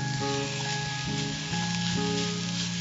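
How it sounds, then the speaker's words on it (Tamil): Banana flower being sautéed in a pan with turmeric powder, a steady close sizzle with faint stirring scrapes running throughout. "வாழைப்பூ நல்லா வேகிற வரைக்கும் நம்ம இதை வதக்கிக்கலாம்"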